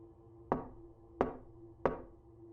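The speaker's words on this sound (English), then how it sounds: "I hear a knock at the door." Three sharp knocks on a door, evenly spaced and fairly close, each a single solid rap with a short wooden ring-out, over a quiet room hum with no voices.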